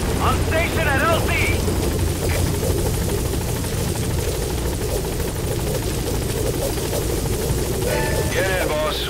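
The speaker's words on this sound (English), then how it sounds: "Support helicopter has arrived." Steady rotor thrum of a support helicopter arriving at a landing zone in Metal Gear Solid V fills the whole stretch, loud and continuous, with brief radio-style voice chatter near the start and end.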